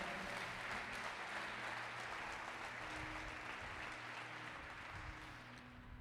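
A church congregation applauds loudly during a Portuguese-language sermon, a thick wash of clapping over a low hum, holding steady and then easing off slightly at the end.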